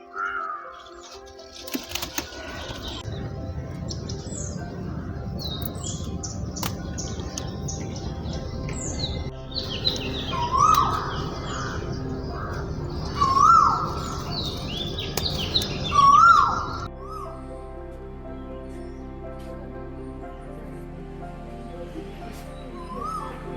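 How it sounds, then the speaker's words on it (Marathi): Birds call and chirp outdoors in a terrace garden, with scattered tweets and squawks over a steady background hum, moderately near, fading out near the end. "मस्त पक्षी ओरडतय"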